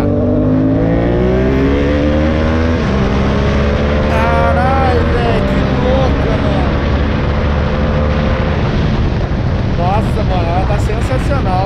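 A modified Yamaha MT-07 motorcycle revs hard, its engine note climbing through several loud accelerations from up close, with someone talking over the riding noise.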